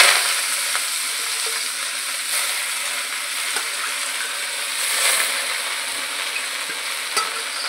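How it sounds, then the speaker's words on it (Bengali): Loti greens fry in hot oil with whole garlic and dried chilli, a close, steady sizzle broken by occasional stirring scrapes and soft clicks of the spatula, with no talking. "শাকটাকে খুব ভালো করে নাড়িয়ে ভাজতে হবে।"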